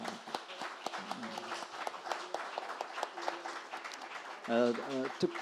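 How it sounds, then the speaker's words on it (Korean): Audience clapping at a Korean Reformed preaching seminar, scattered sharp claps of moderate loudness spread across the stretch, with a brief burst of voiced sound or music near the end. "우리 두 분에게 다시 한번 박수를 한번 해주시면"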